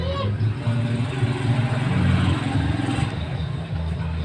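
A faulty motorcycle engine revs up and settles in a rough, uneven drone, running steadily near and loud throughout.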